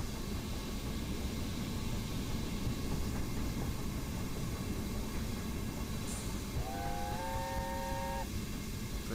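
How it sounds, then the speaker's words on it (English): A steam train whistle from the video game Train Simulator 2018, Oliver Cromwell locomotive, sounds in two sustained, overlapping tones near the end, over steady loud rumbling of a moving train. "Pretty sure I sound the whistle already."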